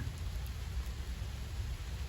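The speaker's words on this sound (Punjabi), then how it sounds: "ਤੇ ਮੈਨੂੰ ਇੰਜ ਲੱਗਦਾ ਵੀ ਪਿੰਡ ਚੰਗਾ ਤਕੜਾ ਮੀਂਹ ਪੈ ਰਿਹਾ" Heavy rain falls steadily over a Punjabi village, a dense, continuous low rumbling wash with no distinct drops standing out, close and unbroken throughout.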